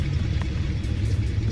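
Car engine idling steadily right after a spark plug change, a close, loud, even low rumble heard alone over a short stretch.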